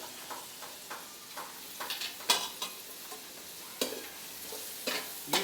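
Oil tempering for girmit sizzles in a pan as it is stirred, with intermittent sharp scraping strokes and crackles at an uneven rhythm, close and moderately loud, with no talking.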